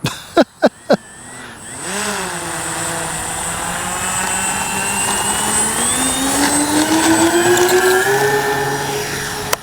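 Twin engines of a Flightline RC B-25J warbird model drone loudly after a few sharp clicks, their pitch dipping and then rising steadily as the plane flies.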